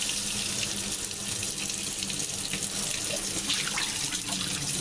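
Tap water runs steadily from a faucet into a sink while sprouting wheat is rinsed, a continuous close hiss and splash with no talk over it.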